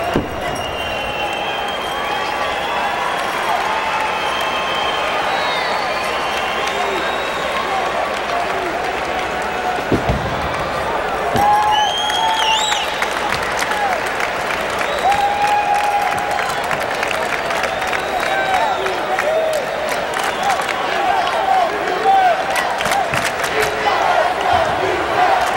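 About 4,000 Louisville Cardinal fans cheer at a November 1985 NIT basketball game against Miami (OH) in Cincinnati, a broad, steady arena roar of crowd noise and applause with whistles and shouts, loud and sustained, with a commentator's voice over it.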